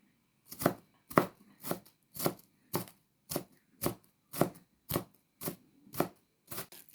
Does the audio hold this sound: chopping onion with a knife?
yes